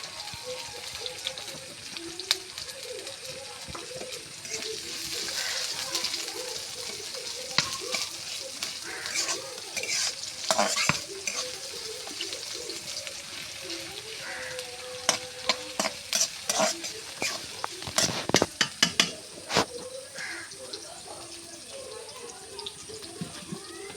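Chopped onion and green chili hit hot oil for a fish curry, giving a close, continuous sizzle broken by scraping stirs and clattering spoon knocks that come faster near the end.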